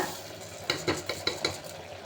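Raw rice stirred and fried in masala for mint rice, a low sizzle with several quick spoon scrapes against the pan in a short, close burst.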